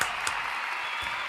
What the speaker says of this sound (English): We're going to give this guy a round of applause.